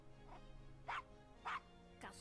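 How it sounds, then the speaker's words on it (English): Small dog yapping in the Gabriel Knight: Sins of the Fathers adventure game, three or four short yips spaced about half a second apart, heard over a steady low game background with speech nearby. "Coochie coochie coo, little doggy."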